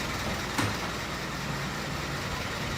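A garbage truck's engine idles or rumbles steadily on a Kyoto street, a low continuous drone in the background with one brief knock partway through.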